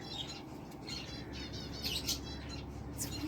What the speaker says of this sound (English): You hear it? What kind of little bird is it?